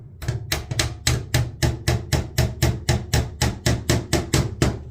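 A hammer taps glazing points into a door frame beside a glass panel, about sixteen quick, even, close strikes in a steady rhythm with no talking.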